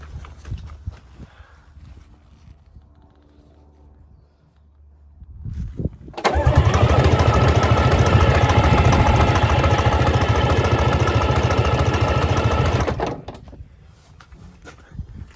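An old Rolls-Royce engine, unstarted for 13 years, cranks briefly, then catches and runs loudly and roughly for several seconds before cutting off, with quieter mechanical noise before and after.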